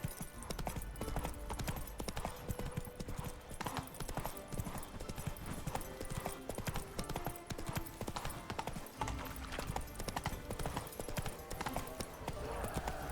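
Roach the horse's hooves clip-clop steadily at a walk in The Witcher 3: Wild Hunt, Blood and Wine, a continuous rhythmic patter layered among busy game ambience, with no talking.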